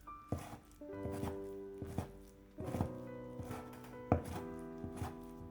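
A knife minces vegetables into small bits on a board, a steady run of close, fairly soft thuds in short bursts.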